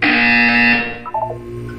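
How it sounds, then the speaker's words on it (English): A single loud, harsh electronic buzzer in a video game sounds for under a second, then cuts off, followed by a brief quiet tone. "When you hear the buzzer, look down at the floor."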